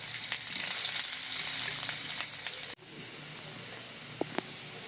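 Mustard seeds sizzle in hot oil for a Kerala fish curry, a loud steady frying hiss that cuts off abruptly partway and gives way to quieter faint sizzling with a few small clicks.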